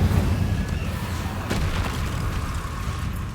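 Incendio fire spell from Hogwarts Legacy roars as a sustained low, crackling burst with a sharp flare about halfway through, loud and continuous with no voices.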